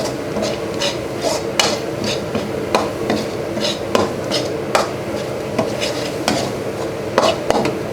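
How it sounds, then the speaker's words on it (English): Curry paste and coconut milk for red duck curry are fried and stirred in a pan, with a utensil repeatedly scraping and clacking against the metal in an irregular rhythm over a low sizzle, close and clear with no talk. "Curry paste and coconut milk we fry in the pan about 5 to 10 minutes"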